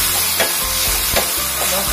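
Onion and tomato frying in a pan for palak paneer produce a loud, dense sizzle right up close, with a spoon scraping through them in a few quick strokes and no speech.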